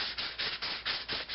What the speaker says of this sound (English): Okay, I'm done sanding except for this ball.